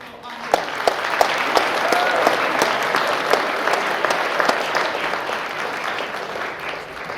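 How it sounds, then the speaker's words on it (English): Sustained audience applause fills a hall at a naturalization ceremony, dense steady clapping from a large crowd that carries on for several seconds, loud and near, with no talking over it. "give a great round of applause to our very attentive students"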